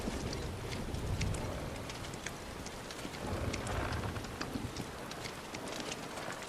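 Rain in the Final Fantasy VII Rebirth video game: a steady, fairly faint wash of falling rain with scattered drop ticks and light wind, continuous throughout with no talking.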